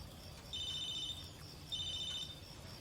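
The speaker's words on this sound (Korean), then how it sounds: "마틴은 스티븐의 전화를 무시합니다." A phone rings unanswered in the film The Killing of a Sacred Deer. Two faint electronic trill bursts, about a second apart, sound over a quiet room hiss.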